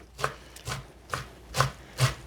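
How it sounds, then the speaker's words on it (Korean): A knife mincing boiled julienned radish and blanched bean sprouts on a cutting board, five distinct chops in an uneven rhythm, close and clear with no talking. "너무 곱지 않게 다지셔도 돼요."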